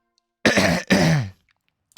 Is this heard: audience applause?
no